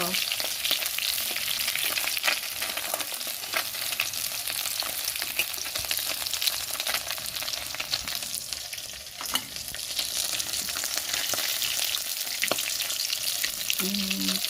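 Rohu fish fries in hot oil with a dense, steady crackling sizzle, broken now and then by soft stirring scrapes, close and unbroken for the whole stretch.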